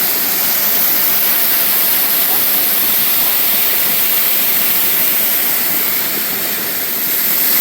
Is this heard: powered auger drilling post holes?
no